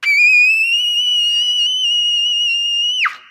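A single sustained high squeak played on a trumpet as a range-building exercise, a loud, clear whistle-like tone held steadily for about three seconds before falling off abruptly at the end.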